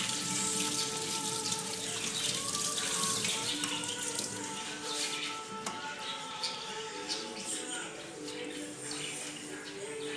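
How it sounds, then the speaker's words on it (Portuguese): Tap water runs steadily over corn cobs while a scrubber brush rubs and scrapes at them, a continuous splashing hiss with occasional knocks from handling at the sink. "eu tô aqui com o meu milho, vou higienizar. Uma buchinha para lavar"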